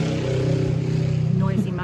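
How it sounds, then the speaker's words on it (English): A noisy motorbike passes outside, its engine drone steady and fairly loud beneath someone talking indoors, rising briefly near the end. "Noisy motorbike. First one we've had though while we've been filming."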